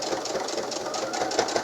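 A sewing machine stitches a fabric pouch with a steady, fast, rhythmic mechanical chatter that runs close and continuous, with no pauses.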